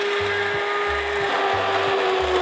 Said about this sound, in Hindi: अब तो एकदम परफेक्ट है, अब तो चला जाएगा ब्लेंडर।